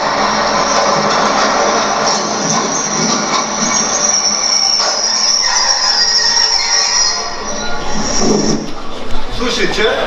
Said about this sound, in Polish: Słyszycie? Jedzie pociąg, walizki w dłoń, szykować bagaże.